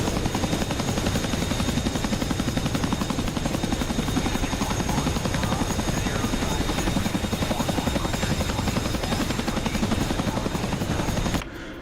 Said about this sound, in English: that's the craziest Chinook ever